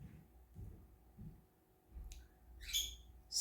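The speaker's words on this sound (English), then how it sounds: "I have 2 birds, Yippee and Juju." Brief pet bird chirps break through at intervals over a low, steady indoor background hum, with short bright calls clustered near the end.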